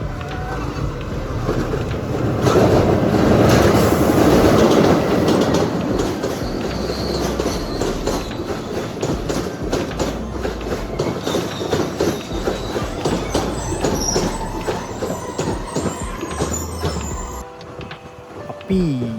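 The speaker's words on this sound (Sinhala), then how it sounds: "ඔන්න ට්‍රේන් එකක් එනවා." A train rumbles past close by in Vavuniya, Sri Lanka, its wheels clattering rhythmically over the rail joints for a long stretch before the noise begins to fade.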